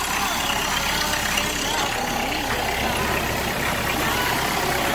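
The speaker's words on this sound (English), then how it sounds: "look at the engine" A tractor engine idles steadily and loudly up close, a continuous low rumble that stays even throughout, with faint voices beneath it.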